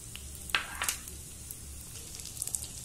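Cumin, fenugreek, black pepper and red chili sizzle softly in a pan, a faint continuous crackle broken by a few sharp pops and small tossing clicks over a low background hum.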